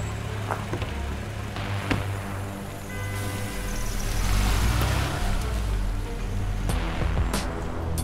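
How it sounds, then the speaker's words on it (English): A car pulls away into the night, its engine a low, steady rumble that swells a little midway as it gets under way, with no voices. "the car took off into the night"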